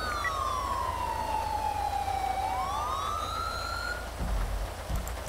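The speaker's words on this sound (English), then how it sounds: "let's get a siren check this thing, please" A police car siren wails in a FiveM GTA roleplay scene, sweeping down and then back up in one clear, fairly loud cycle over a steady noisy background.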